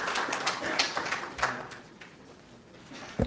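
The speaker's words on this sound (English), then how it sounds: "Please welcome Mayaka with a round of applause" Conference audience applause welcoming a speaker: scattered claps that are loudest at first, then thin out and fade to near quiet, with a few last claps at the end.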